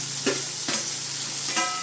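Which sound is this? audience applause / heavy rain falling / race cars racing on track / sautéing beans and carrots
sautéing beans and carrots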